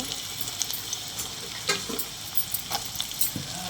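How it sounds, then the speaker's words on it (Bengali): Carrots sizzle steadily in a hot wok, with occasional scraping and tapping as they are stirred. The sound is fairly soft and continuous, with no voices. "তারপর গাজর কড়াইয়ের মধ্যে দিয়ে ওগুলোকে ভালোভাবে ভেজে নেব।"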